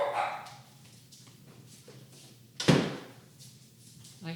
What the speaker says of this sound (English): I had to shut the door on my dog.